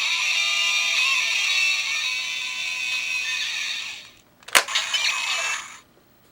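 A Kamen Rider Accel Driver toy belt plays its throttle engine sound effect, a loud sustained electronic revving for about four seconds, then a sharp burst and a shorter second electronic sequence that cuts off.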